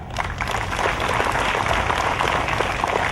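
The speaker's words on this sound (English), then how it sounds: "give a big clap" An audience at a school event claps steadily for a guest, a dense continuous wash of many hands that holds at an even loudness throughout.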